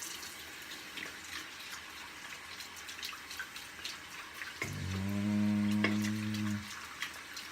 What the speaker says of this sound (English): I'm gonna rinse off my brush.